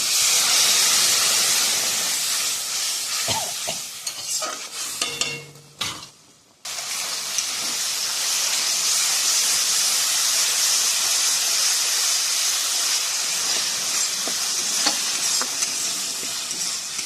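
Water hits a hot pan of frying spice paste and sizzles loudly in a steady, close hiss, with a brief dip and stirring clatter midway before the fierce sizzle resumes.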